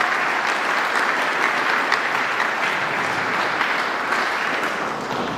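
Sustained applause from Marines, sailors and families at a formal dining-out event, an even wash of clapping holding steady throughout.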